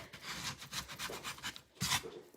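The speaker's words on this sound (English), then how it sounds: "just a little scuff sand on it." Coarse-grit sandpaper scuff-sands an antique mantel clock in quick, quiet, rhythmic rubbing strokes, close up, with a slightly louder stroke near the end.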